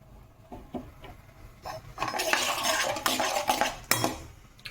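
A spoon scrapes and clinks against a metal bowl while steamed potato is mashed together with salt, chili flakes, cumin and pepper, soft squelching strokes growing busier and louder midway.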